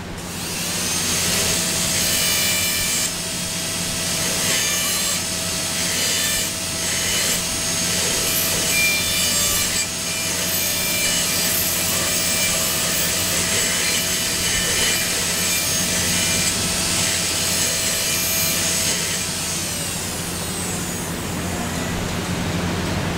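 Dental inverted cone burr finishing the walls of a class II amalgam cavity, a steady high-pitched whine with a constant tone and grinding hiss running continuously, close and fairly loud, easing off near the end.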